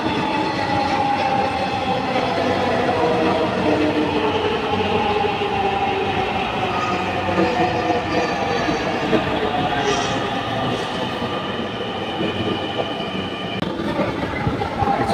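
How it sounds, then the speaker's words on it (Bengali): A Dhaka metro rail train pulls into a station with a loud, sustained rumble and rising and falling tonal whines from the wheels and motors, heard up close throughout. "দেখেন ট্রেন আসতেছে, চলে আসছে"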